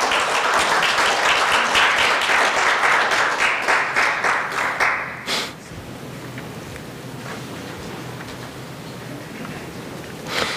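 Audience applause at an appointment ceremony during the Sejongno National Affairs Forum: a loud, dense burst of clapping for about five seconds, then a sudden drop to faint room noise.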